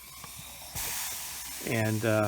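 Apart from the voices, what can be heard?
steam hissing while treating a cough syrup stain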